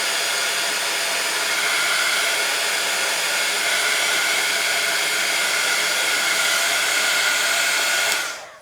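A heat tool blows a loud, steady whirring roar as it dries mixed media craft pieces. The roar holds constant for about eight seconds, then cuts off abruptly, and no one talks over it.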